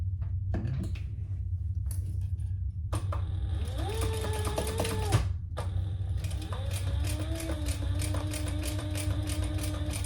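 Sewing machine stitching a seam on a vinyl handbag, a steady mechanical whir running the whole time with short bursts of stitching, some clicks and knocks, and a low hum underneath.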